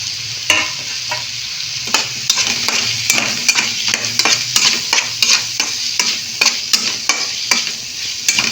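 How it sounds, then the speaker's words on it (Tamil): Chopped tomatoes sautéing with onion in a hot pan for a quail roast, a constant loud sizzle broken by regular scraping strokes of a spatula against the pan, with no talking. "தக்காளி சேர்த்துக்கலாம் சேர்த்து நல்லா வதக்கி விட்டுக்கணும்"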